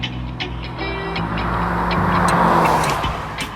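A car travels down the steep Spur Tree Hill road in Manchester, Jamaica, its engine and tyre noise a steady, close roar that swells slightly toward the middle with no talking over it.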